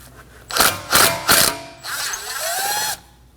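A power tool drives out the No. 3 Phillips head screw holding the brake rotor to the hub on a 2016-2022 Honda Pilot, with three short whirring bursts and then one longer whining run, close and loud.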